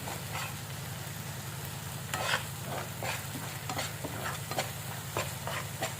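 A spice paste for fish curry, made with mustard and cashew, sizzles steadily in a pan. Close, continuous frying hiss is broken by repeated scraping strokes of stirring.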